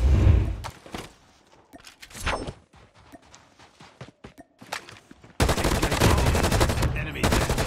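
Light machine gun fire in the mobile shooter game COD Mobile: scattered sharp shots early on, then a loud sustained burst of rapid automatic fire in the final seconds.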